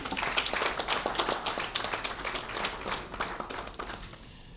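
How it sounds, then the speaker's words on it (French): Audience applause for technical and financial partners at a ceremony declaring the end of the mpox epidemic in the DRC, dense clapping from a crowd that stays steady, then eases slightly toward the end. "je voudrais donc aussi que vous applaudissiez tous les partenaires techniques et financiers qui nous ont aidés"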